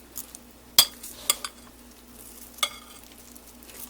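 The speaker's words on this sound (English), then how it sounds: "I'm going to finish mixing this up and getting the dressing all the way through" Broccoli salad being tossed with dressing in a bowl, close and fairly quiet, with a few sharp utensil clicks against the dish among a soft, wet stirring shuffle.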